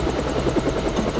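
A helicopter in the video game Deus Ex thumps steadily with a loud, continuous rotor chop and engine drone that fills the whole moment.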